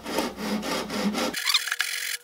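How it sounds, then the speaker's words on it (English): Steady back-and-forth rasping of sandpaper on a flat sanding beam over an acoustic guitar's wooden fretboard in rhythmic strokes, close and fairly loud, stopping abruptly partway with a few lighter scrapes after. "take the sanding beam, which is flat, and I'm going to just lay that flat there and just start sanding"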